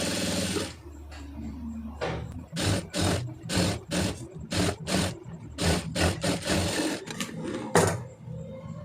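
A sewing machine stitches thread piping along a sleeve edge, running in short close-up bursts of rapid mechanical clatter separated by brief pauses, starting and stopping a dozen times.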